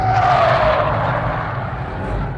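Toyota GR Yaris sliding through a corner on a race track, a loud sustained tyre squeal and scrub over a steady engine drone, close throughout and fading slightly toward the end, with no talk.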